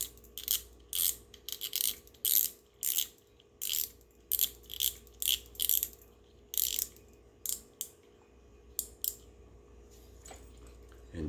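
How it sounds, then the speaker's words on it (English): Tension screw being cranked on an open-face fishing reel, a run of rapid ratcheting clicks in short bursts with gaps, close and clear over a faint hum. "Now we'll crank this tension screw back on here."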